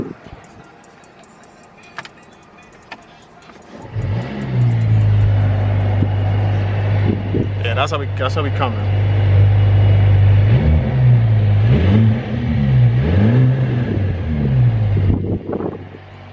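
A Mercedes-AMG GT43 engine turns over and catches after a few seconds of quiet, then idles loudly with a few revs rising and falling; a voice speaks briefly.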